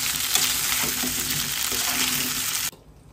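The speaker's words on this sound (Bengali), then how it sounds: "এই তো ছোট আলু ভাজা শেষ, একদম হালকা ভেজেছি" Small potatoes frying lightly in a pan, a loud continuous close sizzle with repeated stirring scrapes, ending abruptly in near silence.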